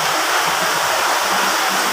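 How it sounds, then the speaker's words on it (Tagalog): A small waterfall inside a cave produces a steady, loud rushing hiss of falling water that fills the space evenly and continuously, close by, with no voices. "Small waterfall."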